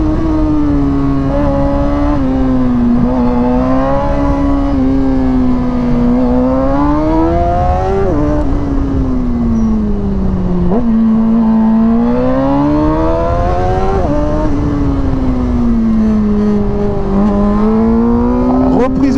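A Suzuki GSX-R motorcycle engine on a dyno revs loudly and steadily for a long stretch, its pitch climbing, dropping at gear shifts and climbing again, with no talk over it.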